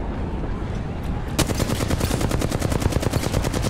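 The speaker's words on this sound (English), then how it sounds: "I'm just gonna shoot them, I can see them from here!" Rapid automatic gunfire in a battle royale shooter game, loud, steady bursts of repeated shots beginning after a quieter stretch and continuing to the end.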